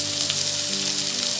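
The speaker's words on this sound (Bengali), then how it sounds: "আর দেব হাফ চামচ ধনে গুঁড়ো দিয়ে আমি ভালো করে মশলাটাকে একটু ভেজে নেব।" Half spoons each of cumin, chili and coriander powder fry in hot oil with chopped tomato for a lentil and bottle gourd dal, making a close, continuous sizzle that stays steady throughout.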